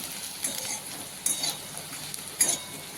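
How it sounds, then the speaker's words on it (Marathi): Onion and dried bhusari sandge are stirred and sautéed in a pan, giving a soft, quiet sizzle with a few brief scraping clatters of the spoon against the pan. "ह्या भुसारी सांडगा आपण ह्याच्यामध्ये टाकू हे केलेले आपण तयार हे छान असे परतून घेऊ आपण"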